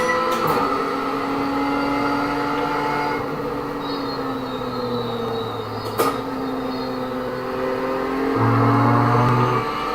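Race car in the iRacing simulator pulling away and accelerating, a steady engine drone with rising tones and gear changes, close and loud, with no talk over it.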